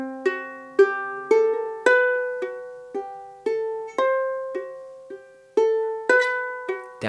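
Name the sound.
ukulele playing first section of Campanella etude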